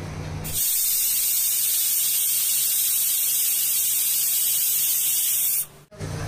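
A forceful, steady hiss of steam bursts from a pressure cooker whistle while cooking chickpeas for chole, for several seconds, then cuts off abruptly.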